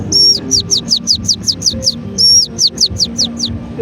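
A voice imitates long-tailed, fruit-eating birds that raid farm crops: two loud runs of rapid, sharp whistled chirps, each opened by a longer note, close and clear over faint background noise.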